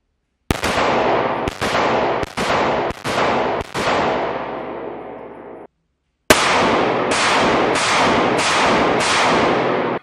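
A series of sharp gunshots at an outdoor range, five rapid reports, a brief pause, then five more, each loud and close with ringing decay, testing an Olight BALDR Pro R weapon light's zero.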